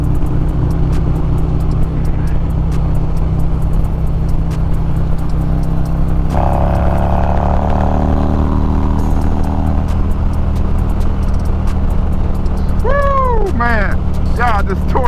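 Motorcycles ride along a Texas road toward Lindale, a constant loud engine drone close by, with rising and falling revs from passing bikes and a whining sweep near the end.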